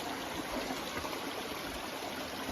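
A creek runs in a steady close burble, a continuous textured rush of flowing water with no voices or breaks over a short stretch.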